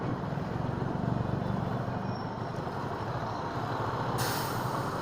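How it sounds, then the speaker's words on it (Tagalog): Steady road traffic with a rumbling truck engine, a loud sustained drone near the microphone, ending in a sudden hiss of air brakes. "Traffic guys."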